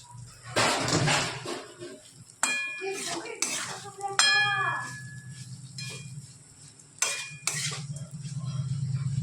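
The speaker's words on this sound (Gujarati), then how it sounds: "આપણે કંકોરાનું સરસ મિક્સ કરી લીધું છે" Spiced spiny gourd (kankora) mixture being stirred in a pan, with repeated scraping and clinking of a spoon against metal over a steady low background hum, several sharp clinks standing out.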